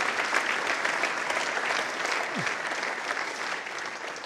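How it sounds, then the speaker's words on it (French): A large audience at a welcome session of a 2015 forum applauds steadily and evenly for the whole stretch, a dense wash of clapping with no voices on top. "Les deux prochains, vous pouvez les applaudir."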